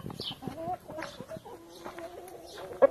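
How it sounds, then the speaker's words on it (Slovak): Large hens and roosters clucking in a farm yard, several overlapping short clucks and a drawn-out bird call, close and fairly clear, with a faint voice in the background. "tu máme ostatné veľké sliepky a kohúty."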